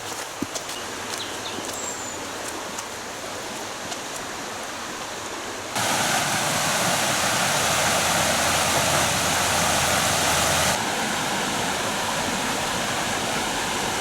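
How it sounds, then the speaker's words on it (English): The River Wear in Weardale flows beside a riverside path, a continuous rushing wash of water that grows noticeably louder and fuller midway, then eases slightly, with no voices. "I'm actually walking beside the River Wear now."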